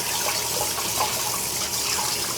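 Rice being swished and rinsed by hand in water in a bowl or sink, a steady close sloshing and trickling wash that runs unbroken and fairly quiet throughout, with no talking.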